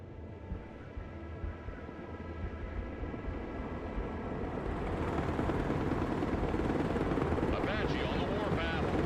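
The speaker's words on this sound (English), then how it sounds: "Apache is combat ready." An Apache attack helicopter flies in the Broken Arrow military strategy game, its rotor chop a dense steady rumble that swells louder partway through, with voice radio chatter over it.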